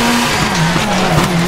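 A rally car slides through a hairpin on gravel in WRC 4 at the Acropolis Rally, pulling a steady tonal tire skid under a continuous engine drone that lasts the whole moment, loud and close.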